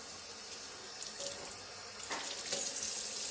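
A tap runs hot water steadily, a soft continuous hiss of water close by with faint splashes, no voices.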